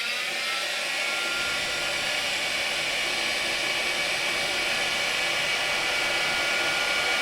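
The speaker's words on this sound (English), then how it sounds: "And then we're going to have a go at this with our paint gun. We're going to heat it up." A heat gun, used as a paint gun, blows hot air onto the glued parts of a Mk4 laser pointer held in a vise, a loud constant hissing whoosh that runs steadily throughout with no voices.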